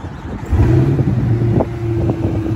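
A 2021 Chevrolet Corvette 2LT comes to life by remote start and settles into a deep, steady idle rumble with a low droning tone. Some wind buffets the microphone, and no one speaks.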